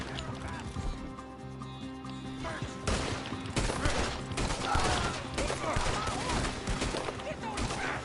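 Rapid gunfire rattles through a Red Dead Redemption 2 shootout, dense overlapping shots rising after the first few seconds, with voices calling out over the din.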